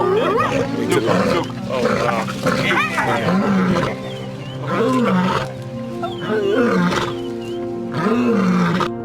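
A male lion roars loudly and close by, in several deep drawn-out roars separated by short gaps.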